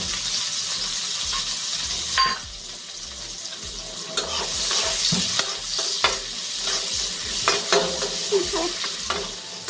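Onions fry in oil in a pan while cooking chicken curry, giving a steady close sizzle broken by repeated scraping stirs, with no talking.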